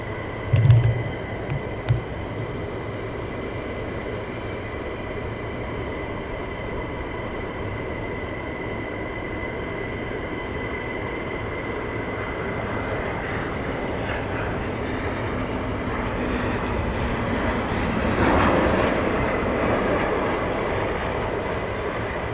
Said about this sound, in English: We'll pad around now to this aircraft landing.